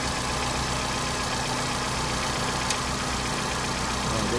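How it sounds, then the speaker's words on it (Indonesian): A 2008 Suzuki APV SGX engine idles smoothly and steadily close by, a constant even hum with no talk over it. "Ini kondisi mesin hidup ya."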